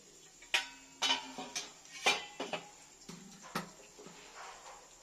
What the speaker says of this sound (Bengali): এবার ঢাকনাটা একটু তুলে দেখছি